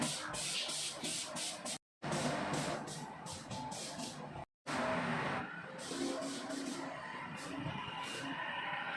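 Paint spray gun blasting a ship's car deck ceiling, a loud continuous hiss in long bursts with two brief cutoffs, alongside a running compressor, with no speech.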